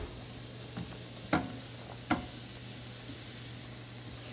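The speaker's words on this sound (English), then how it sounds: "I'm going to put in 1 cup of onion and 1 cup of celery. And we're going to let those kind of cook through." Onion and celery cook in melted butter with a faint, steady sizzle, and two sharp utensil knocks break through partway.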